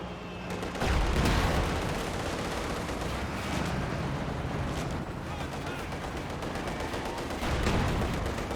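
Tank cannon blasts and gunfire from a Company of Heroes 2 battle rumble in dense, overlapping bursts, with heavier booms near the start and end under continuous battle noise.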